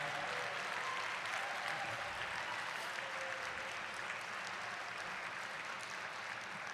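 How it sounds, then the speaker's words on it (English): A crowd at an awards night claps in steady, sustained applause, soft and somewhat distant, with a faint murmur of voices underneath throughout. "Round of applause,"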